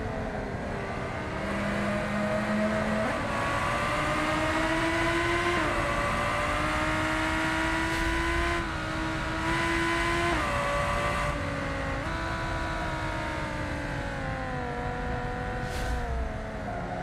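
A supercar engine races in the BeamNG.Drive video game, droning loud and steady throughout, its pitch rising and dipping with shifts and throttle changes, with no talk over it.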